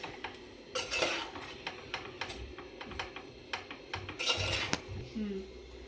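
A metal spoon scrapes and clinks against a pan as pudina rice is mixed with salt, producing irregular taps and scraping strokes, a few louder clatters among them, while someone talks.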